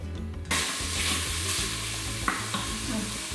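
Bacon fries on its own in a pan with a steady, close, dense sizzle and crackle, and a few light stirring knocks come through. No one speaks.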